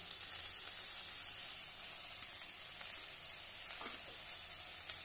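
Okra with fenugreek, red chilli, coriander powder, garam masala and turmeric sizzles in a pan, a steady soft hiss throughout with faint scattered pops, no talking.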